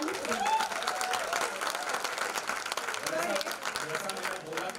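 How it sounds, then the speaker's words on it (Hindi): An audience at an Indian Institute of Coal Management stage event applauds in a dense, sustained wash of clapping, with voices talking over it throughout. "एक बार फिर से जोरदार तालियां निशान से।"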